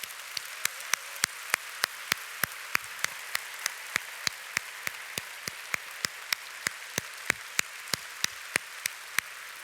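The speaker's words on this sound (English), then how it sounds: "can we give him a big round of applause for his talk?" Sparse, evenly spaced claps from a small group as an audience applauds the Dalai Lama leaving after a public talk on peace, faint and slightly distant, each clap crisp and separate.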